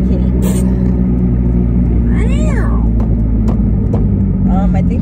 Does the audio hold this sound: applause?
no